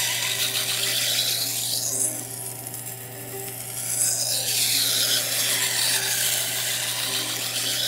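The steel edge of a Masakage Yuki kitchen knife being restored is drawn across a sharpening stone in long rasping strokes, with a steady scraping rhythm over a low constant hum.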